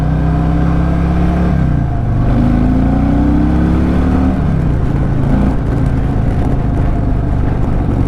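A 2024 Harley-Davidson Fat Boy 114 cruiser engine rumbles loudly up close, its pitch climbing through a rise, dipping briefly, then pulling up again under a steady throaty drone.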